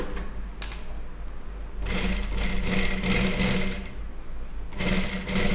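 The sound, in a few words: sewing machine stitching along the fabric edge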